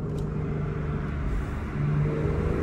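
A Porsche engine with its exhaust open revs up, a loud, steady low rumble and whir that swells slightly toward the end, with no talk.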